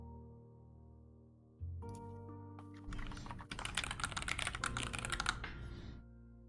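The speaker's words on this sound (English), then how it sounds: "I'm typing out what she's saying so I can count." Rapid typing on a computer keyboard during a live tabletop game session, with a steady run of clicking keystrokes that starts softly and then becomes a dense, close clatter before stopping.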